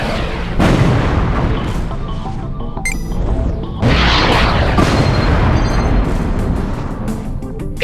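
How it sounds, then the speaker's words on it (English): Missile explosions in the space shooter Everspace boom loudly one after another, heavy crashing blasts that fill the scene, with a sharp break in the middle before another big detonation rolls on. "Missiles on the next targets."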